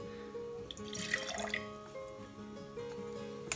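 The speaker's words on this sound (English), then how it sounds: "I'm going to put equal quantities of vinegar to eggshell." White vinegar pours into a measuring cup with a close, soft trickling splash lasting a couple of seconds, with a faint ringing tone beneath, and no talk.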